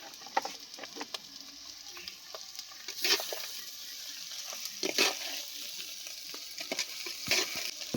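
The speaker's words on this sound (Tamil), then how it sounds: "சேர்த்துட்டு வந்துட்டு நல்லா கிண்டி விடுவோம்." Thick goat intestine gravy being stirred in a pan, with soft wet scraping and gentle sizzling in bursts.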